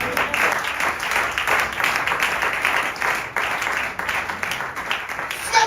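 A church congregation claps and applauds throughout, a dense steady wash of many hands close and loud, with faint voices mixed in.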